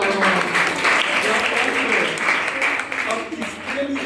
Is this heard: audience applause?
yes